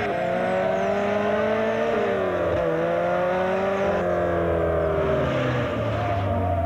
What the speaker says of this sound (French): Chez Nissan, nous avons créé la nouvelle 240SX en pensant précisément à ce que vous avez toujours voulu d'une voiture sport.